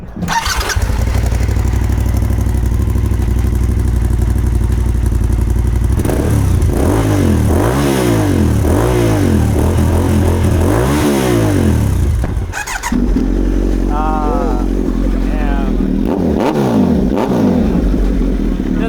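A motorcycle at a bike night in Queen Creek idles loudly close by, then revs up and down in several rising and falling sweeps before settling back to a steady idle, with no talking over it.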